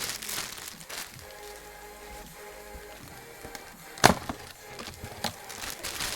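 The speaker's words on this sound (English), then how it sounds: "Oh, he hears crinkles." Packaging crinkling near a foster kitten, faint crackly rustles spread through the moment with one sharper crunch partway, close by and without talking.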